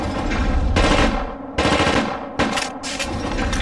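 Automatic gunfire in the video game The Thing, loud close bursts of rapid shots in three or four runs with short gaps between them.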